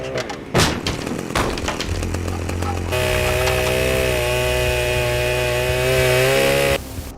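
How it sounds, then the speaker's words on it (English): A chainsaw in the video game Manhunt snarls and revs with a harsh buzzing drone, loud and sustained after some clattering impacts at the start. "using Pigsy's chainsaw to violently bust his way inside of Starkweather's private,"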